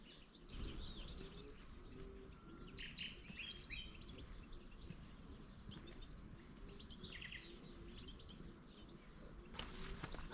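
A golden oriole sings at a distance in a quiet countryside walk in La Alpujarra, southern Spain. Faint chirps and calls from it and other birds are scattered over a soft, steady outdoor background, with no talking.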